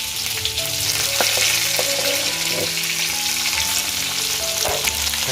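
Chopped onion and tomato hit a hot pan with curry leaves and mustard seeds for prawn sukka, frying in a loud, steady sizzle broken by the scrape and knock of stirring.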